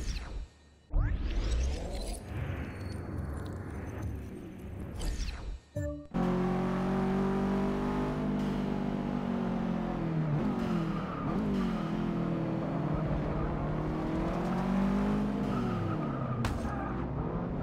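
Race car braking into a chicane in Forza Motorsport 6, a loud sustained engine note shifting pitch as it slows and accelerates, with tire squeal and skidding throughout and a brief cut near the start.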